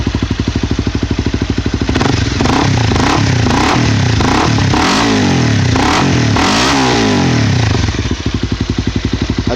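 A 2012 Honda CBR250 with a Yoshimura slip-on exhaust idles with a loud, steady close-up putter, then is revved hard several times in rising and falling bursts before settling back to idle.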